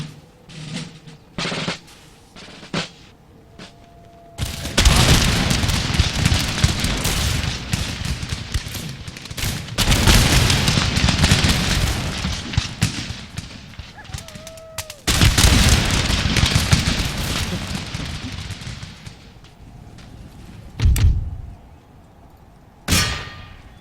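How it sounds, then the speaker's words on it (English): Artillery barrage in Empire Total War: after a few sharp isolated clanks, three long loud bursts of massed cannon fire roll in close, each lasting several seconds, separated by brief lulls and followed by scattered single shots. "Laying down that barrage."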